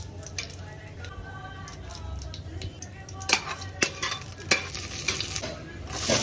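Bay leaf, cardamom, cinnamon and cloves sizzle in oil and ghee for biryani: a low, steady frying hiss broken by sharp metallic clinks and scrapes of a spoon against the pan.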